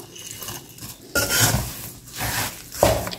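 A spoon scrapes and stirs crushed almonds, pistachios, cashews and walnuts into a gond mixture in a pan, giving a few close, gritty scraping strokes with soft metallic knocks.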